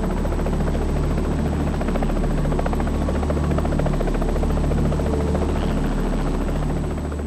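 A helicopter's rotor thumps steadily and loudly overhead with a constant whine, holding in place without fading for several seconds.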